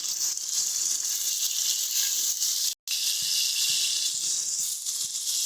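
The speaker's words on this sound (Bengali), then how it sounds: "সুন্দর করে এবার এটাকে আমরা ভেজে নিচ্ছি।" Shrimp fry in hot oil with turmeric and salt, giving a steady bright sizzle that crackles continuously, close and moderately loud, broken only by a brief cut in the middle.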